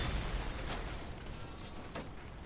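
Pyre launcher explosions in the vehicle combat game Crossout: two muffled bursts over a steady background of game noise, fairly faint and with no talking.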